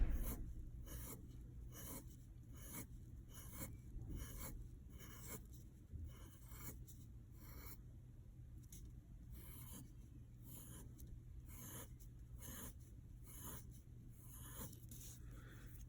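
A pencil cross-hatches on paper in repeated short, rhythmic scratching strokes, steady and faint, close up over a quiet background hum with no talking.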